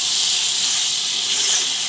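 Pumpkin pieces fry in a pan while being stirred, giving a steady, close, hissing sizzle that holds evenly throughout with no talking.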